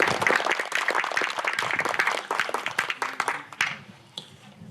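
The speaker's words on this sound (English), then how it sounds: "Can we give those guys all a round of applause for donating and supporting us?" An audience at a community grand march event claps for donors and supporters, a lively burst of many hands that thins out toward the end.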